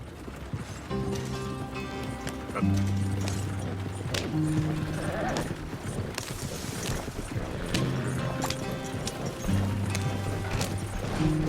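Red Dead Redemption 2 gameplay: rhythmic clip-clop of horse hooves at a quick pace over steady music-like tones, with an occasional whinny; no clear talking.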